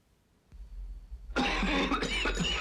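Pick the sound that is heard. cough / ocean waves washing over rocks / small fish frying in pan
cough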